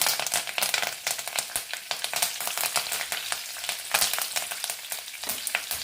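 Finely chopped garlic and curry leaves crackle and spit loudly in hot oil alongside cumin, a dense, continuous sizzle with sharp popping bursts throughout and no voices.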